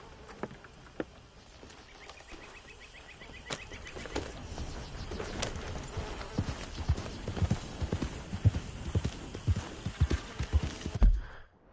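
Hooves clip-clop in a steady, uneven patter as a horse moves in an open-world western video game, growing louder and busier toward the end, with faint ambient game sounds around it.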